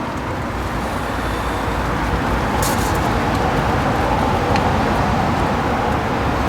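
Steady traffic noise around a riverside car park on the River Itchen, a continuous broadband road rumble with no distinct passing vehicles, moderately loud and unbroken throughout.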